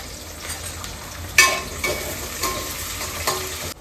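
Browned onion frying in a pan for chicken gravy, a constant sizzle with a few sharper stirring scrapes against the pan, close and fairly loud, with no talking.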